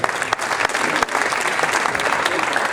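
Audience applauding the host at a Sporting Club de Toulon football season-opening event, dense and steady clapping from a sizeable crowd throughout, with a few brief dips and faint voices under it.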